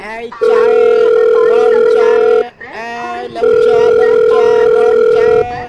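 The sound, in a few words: telephone ringing during a phone call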